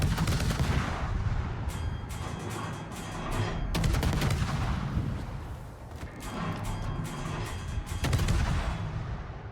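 Naval gunfire in World of Warships sounds as repeated heavy booming salvos and rumbling blasts layered over one another, dense and loud throughout the stretch, with sharp cracks clustered in bursts and no voices.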